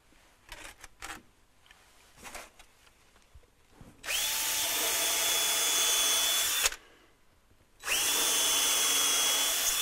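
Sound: power drill drilling holes in wood for fretsaw carving

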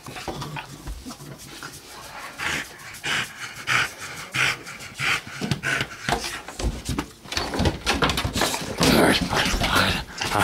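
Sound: dog panting

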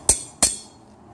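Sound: slide hammer pulling a CV joint

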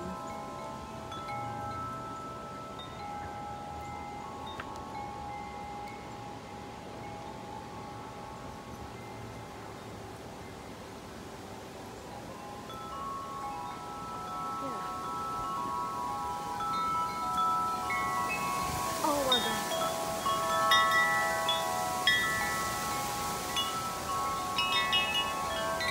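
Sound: wind on a windy evening

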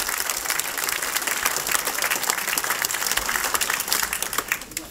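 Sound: applause for the volleyball team

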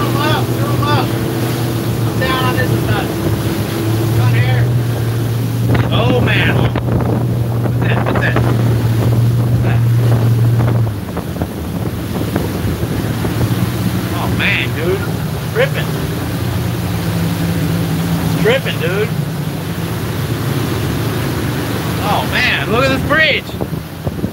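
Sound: motorboat engine running in wind during hurricane

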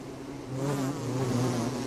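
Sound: bees buzzing in video game

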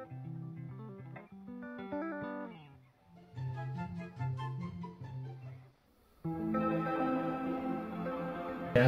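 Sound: guitar played through a chorus pedal

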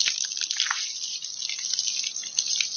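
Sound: water running from an outdoor hose

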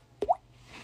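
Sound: mouth imitation of water droplet sound

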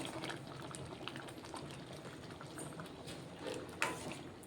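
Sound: water being poured into a pot of dal

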